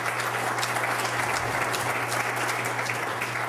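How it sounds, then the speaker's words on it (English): Steady applause from an audience at a road preservation forum, clapping for the panelists, dense and even throughout with no break. "Can we give our panelists an applause?"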